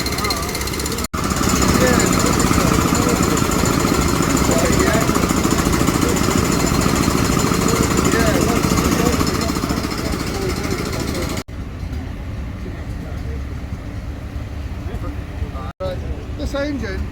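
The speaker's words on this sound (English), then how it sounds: "This engine is it was made in 1958. It's a Lister Blackstone model ER4." A 1958 Lister Blackstone ER4 stationary engine, 200 horsepower at 750 rpm, runs at an outdoor show with a loud, steady, rapid mechanical chugging. The sound drops to a quieter, more distant level partway through. Crowd voices are faintly present.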